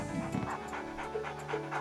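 A dog pants heavily in rapid, steady breaths, close and fairly loud, with no talking over it.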